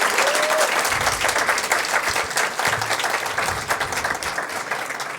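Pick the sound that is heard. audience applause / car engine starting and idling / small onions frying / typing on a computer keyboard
audience applause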